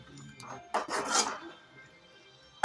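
A spoon scraping and rasping through vegetable sambar with coriander in a pot, giving a few short, close stirring sounds with brief pauses.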